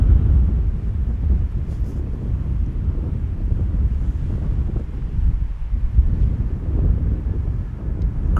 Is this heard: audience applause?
no